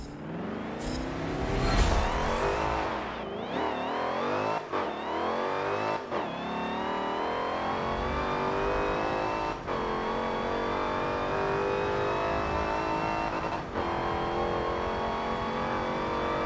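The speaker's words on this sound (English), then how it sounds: "Ooh, that's a nice sounding engine." A Chevy Colorado pickup engine in the racing game Forza Motorsport 7 revs hard and climbs repeatedly in pitch, with sharp dips at each gear shift, loud and close throughout with no talking.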